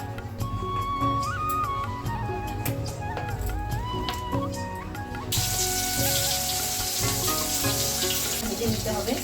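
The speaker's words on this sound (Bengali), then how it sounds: "তো আপনারাও এইভাবে কাকরোলগুলোকে ভেজে নেবেন।" Salted, turmeric-coated spiny gourd pieces go into hot oil in a wok. Scattered tonal clinks and background sounds give way about halfway through to a sudden, loud, steady sizzle close by.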